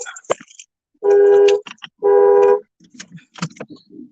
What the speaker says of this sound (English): Gotta get out of here because my alarm's going off.